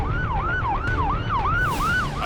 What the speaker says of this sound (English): Ambulance up there now.